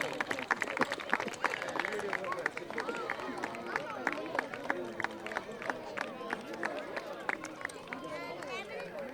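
Crowd applause at a community prize distribution event in Connecticut, a steady patter of many hands clapping mixed with chatter and babble throughout, moderately loud and sustained.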